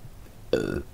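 A single loud, close burp starts abruptly and lasts about a third of a second after a quiet lead-in.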